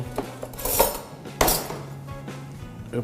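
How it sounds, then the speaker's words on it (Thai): A spoon stirs a drink inside a blender jar, giving a few close, sharp clinks and knocks scattered across a few quiet seconds with no speech. "เดี๋ยวเราก็จะใช้ช้อนช่วยนะครับ เอาช้อนคนนิดนึง"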